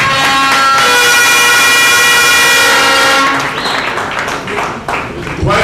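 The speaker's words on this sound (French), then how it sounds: "Applaudissements." A crowd at a gathering claps loudly and continuously for several seconds alongside a bright sustained tonal sound, then the noise thins out into scattered claps.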